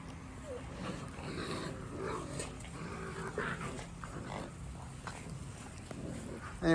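Six-week-old puppies playing outdoors give soft growls, whimpers and yips scattered among background noise, and a person's voice is heard faintly in the middle.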